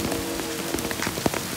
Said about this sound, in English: this hail's getting kind of big.